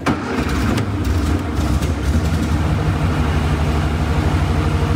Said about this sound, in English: Well, the car runs pretty good now.